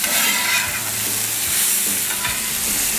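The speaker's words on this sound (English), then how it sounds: "I'm gonna just flip these veggies real quick." Fajita vegetables sizzling loudly in a hot pan as they are flipped and stirred, a continuous close frying hiss with a few scraping turns and no talk.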